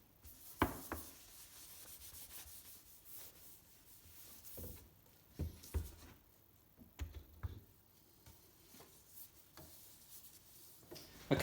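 Hand sanding English oak end grain with worn 180–200 grit sandpaper: soft, intermittent scratchy rubbing strokes, quiet and close, with occasional light taps and pauses between passes.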